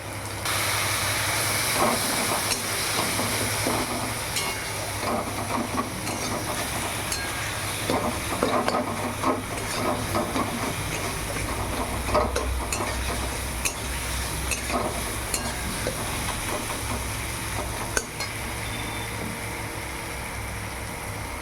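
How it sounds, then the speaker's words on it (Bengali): Cumin and coriander powder spices fry in a pan for Shillong-style fish curry, a steady close sizzle with scraping stir strokes running throughout. "দিয়ে মশলাটা ভাজা ভাজা করে নেব।"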